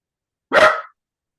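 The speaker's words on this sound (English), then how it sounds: "I love dogs barking." A single sharp dog bark rings out once, close and fairly loud, then silence.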